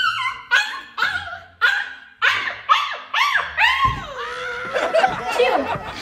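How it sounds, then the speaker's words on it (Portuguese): Several dogs bark in quick, uneven bursts nearby, with howling, yelping tones rising and falling and one voice breaking into long wails. "Já tá latindo desse tanto?"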